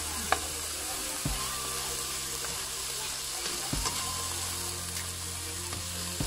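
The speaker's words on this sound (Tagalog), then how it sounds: "dudurugin natin ng kamatis" Tomatoes are mashed and sautéed in a hot pan, giving a steady close sizzle broken by a few soft scraping and pressing knocks from the utensil.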